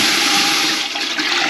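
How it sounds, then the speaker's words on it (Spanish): Six litres of water pour steadily into a cooking pot for pasta, a continuous loud rushing splash with no voices. "vamos a colocar 6 litros de agua para cocinar la pasta"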